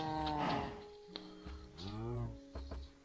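Cows moo in the Minecraft video game, with several drawn-out bovine calls one after another and short clicks between them, clear and close with no talking.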